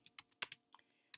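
Quick irregular keystrokes on a MacBook Air laptop keyboard, about eight close, crisp clicks within a second with short gaps between them, with no voices.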